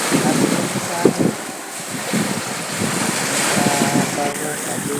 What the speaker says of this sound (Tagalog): Ito naman yung dagat namin. Ayan, ito yung buhangin dito.